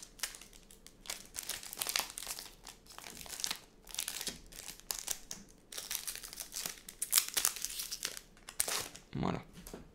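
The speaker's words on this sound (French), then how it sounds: "Alors les boosters sont très difficiles à ouvrir" Old Pokémon card booster packs from a HeartGold SoulSilver collector box are torn open by hand, with stiff foil wrappers crinkling and crackling in close, busy bursts throughout and no voice.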